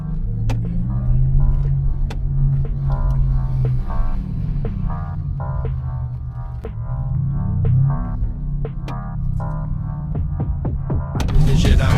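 A loud, low throbbing electronic hum inside a moving car, its pitch slowly sliding up and down, with scattered sharp clicks.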